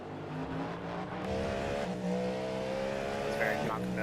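An iRacing race car at the 24 Hours of Le Mans pulls alongside close on the right, its engine drone rising in pitch as it draws level, with tire noise beneath and a voice talking over it.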